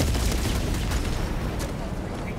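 Bombing-run explosions in Helldivers 2 rumble as a continuous dense barrage of deep booms and bursts, loud and close, with players talking underneath.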